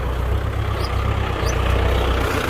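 A farm tractor engine idles close by in a field setting, a steady low rumbling drone with even throbbing pulses and no talk over it.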